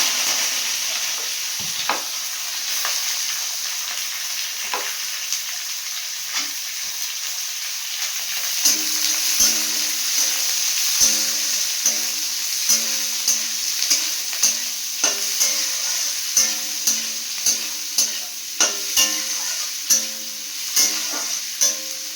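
Curry leaves and onion frying in a pan, a steady background sizzle broken by a run of regular spatula clicks and taps against the pan, close and without talk.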